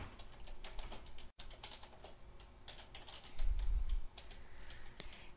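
Typing on a computer keyboard, a quick run of close, crisp key clicks with a brief pause and one louder cluster of strikes.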